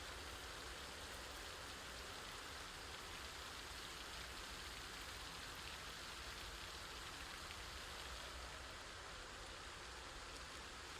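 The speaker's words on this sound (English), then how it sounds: "Do you guys ever get tired of hearing so much rain?" Continuous rain ambience in the zombie survival game Project Zomboid: an even, faint hiss of steady rainfall on surfaces with no breaks or voices over the whole stretch.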